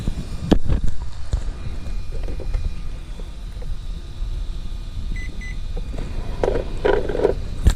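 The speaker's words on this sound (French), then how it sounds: "Hop là, et voilà, il a fait 2 bips" Two short, quiet electronic beeps from a Bison V2 speed controller being programmed in an EZRun Max10 SCT, sounding close together over a steady background hum.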